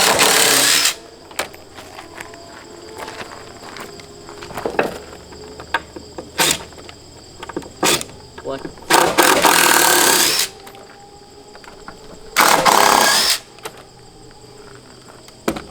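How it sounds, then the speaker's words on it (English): A bandsaw mill flattens a live edge wood slab, with several loud bursts of cutting, the longest lasting about a second or two, set apart by quieter stretches of workshop noise and scattered knocks. "We successfully used our bandsaw mill to flatten a slab."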